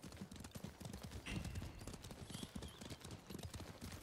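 Horse hooves clip-clop at a steady trotting rhythm in the samurai video game Ghost of Tsushima, fairly quiet and continuous, with faint ambient game sound around them.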